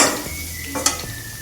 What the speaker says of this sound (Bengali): এবার এটা একটু নাড়বো